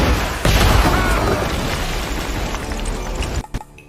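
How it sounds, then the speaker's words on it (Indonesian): A bazooka shot explodes in an action film fight, a loud booming blast that hits suddenly, then rumbles and crackles before cutting off abruptly. "si manajer memberikan kontribusi terakhir dengan menembakkan bazooka ke arah pasukan Lonnie"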